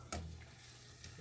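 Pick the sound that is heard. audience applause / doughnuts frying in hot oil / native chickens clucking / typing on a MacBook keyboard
doughnuts frying in hot oil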